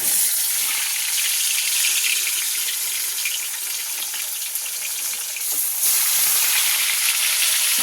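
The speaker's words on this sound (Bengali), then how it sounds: "তাহলে কড়াতে মাছটা ছেড়ে দিই।" Bhola fish frying in hot oil in a wok, a steady, loud, broadband sizzle that runs continuously throughout with slight swells and no talking.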